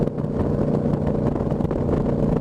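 A motorcycle rides along a road near East St. Louis, its engine giving a steady close drone with slight throttle wavers and wind rush, without speech.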